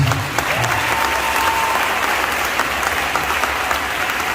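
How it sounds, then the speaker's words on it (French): A church congregation at Sunday Mass in Sainte Anne parish, Port-Bouët, claps for the animators in steady, sustained applause filling the room, with no speech over it. "Et nous allons dire merci aux animateurs, on va les acclamer aussi."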